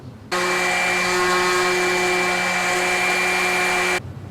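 Power sander rounding over the top of a wooden piece, a steady loud whining hum that starts abruptly, holds an even pitch for about four seconds and cuts off, with no talking.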